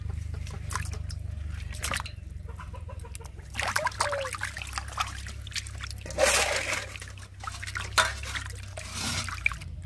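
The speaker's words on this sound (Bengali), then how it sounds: "এখন মাছগুলো ভালো করে ধুয়ে নিচ্ছি।" Cut katla fish pieces are washed in water by hand, giving intermittent splashes, drips and sloshing at close range. A rooster-like clucking is heard faintly in the background.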